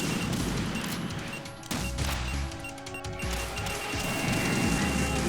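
Enemy soldiers fire guns in the PS2 game Metal Gear Solid 2, rapid repeated shots and clattering impacts forming a dense, continuous barrage with a few sharp breaks, fairly faint overall and without talk.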